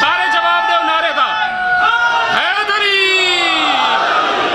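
A crowd at a Muharram religious gathering shouts a slogan back in unison, loud, overlapping voices rising and falling in waves, with a lone voice leading over the massed response.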